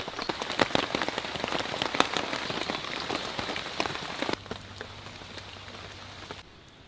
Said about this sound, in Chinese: 天都还没亮就开始下雨